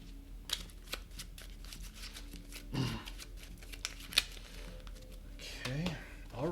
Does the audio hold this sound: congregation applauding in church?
no